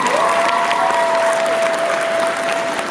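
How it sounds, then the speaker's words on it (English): An audience claps for Mrs. Shine at the SLSEPA award event, dense sustained applause filling the room with a steady tone ringing underneath, gradually easing. "Let's give her a round of applause."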